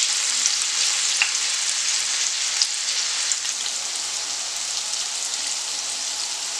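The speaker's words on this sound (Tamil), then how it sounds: "இந்த tofu எல்லாம் வந்து tofu பன்னீரை just வந்து நம்ம கொஞ்சம் ஃப்ரை பண்ணி போட்டுறோம்." Tofu paneer pieces fry in hot oil in a pan, giving a steady, even sizzle throughout with a few faint pops and no talking.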